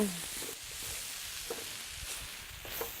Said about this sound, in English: in goes that browned meat from before. Oh, this is looking good. I'm going to stir that up.